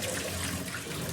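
Water running into a pressure cooker while noodles are being made: a continuous, even rush of pouring water, close and steady for about a second, with no talking.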